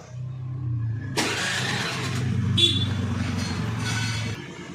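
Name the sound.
Honda Dio scooter engine starting after repair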